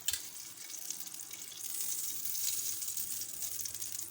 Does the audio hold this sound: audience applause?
no